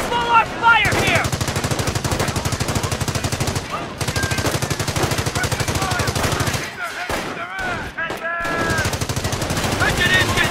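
Sustained machine-gun fire and gunshots from the World War II strategy game Company of Heroes, a dense continuous rattle of rapid bursts with brief gaps, loud and close, with occasional shouted unit voice lines in between.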